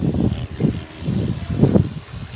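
Cobra 500 RC helicopter with a Flish RC L7 flight controller flying overhead, its rotor producing a steady, pulsing low drone with rhythmic swells, moderately close and continuous, with no talk.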